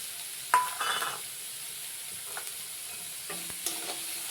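Fish with spices fries in a small amount of oil in a pan, a faint sizzle broken by a few clinks and scrapes of stirring, with no one talking.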